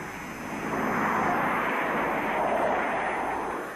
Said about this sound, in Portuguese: Acho que é algum jato de passageiros. Ele está muito baixo.